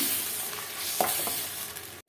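A pan of thick egg curry gravy bubbles and sizzles steadily at close range, with a soft stir or tap partway through.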